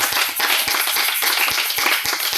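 A church congregation at a Sunday service clapping in a steady rhythmic beat, sharp claps spaced evenly over a dense wash of crowd noise.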